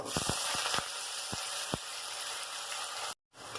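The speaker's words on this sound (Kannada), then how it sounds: "ಇಲ್ಲೇ ಆಲೂಗಡ್ಡಿನ ಮೂರಿಂದ ನಾಲ್ಕು ನಿಮಿಷ ನಾನದ ಫ್ರೈ ಮಾಡ್ಕೊಂಡಿನಿ" Potato pieces fry in hot oil with a soft steady sizzle, broken by several sharp clicks of a utensil against the pan, and there is no speech.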